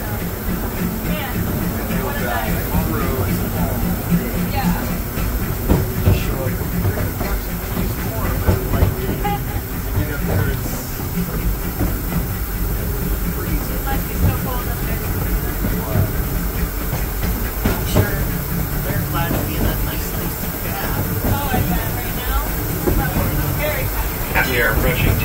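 The Disneyland Railroad's E.P. Ripley steam train rolls along in a steady loud rumble with rail clatter and hiss, and voices are heard over it throughout.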